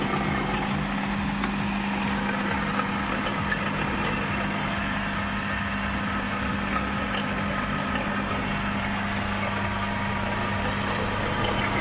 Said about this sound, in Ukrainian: Двигун тихенько працює.